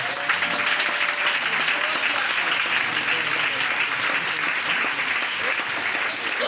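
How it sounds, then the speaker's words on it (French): A church congregation claps and cheers in praise during a sermon, the applause dense and sustained from start to finish. "Acclamez Jésus."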